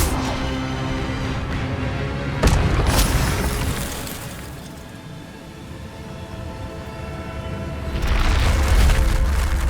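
Spell effects in the Hogwarts Legacy video game, including Incendio and Expelliarmus, with a sharp burst and booming rumble that swells, fades and then returns loud, no talk heard.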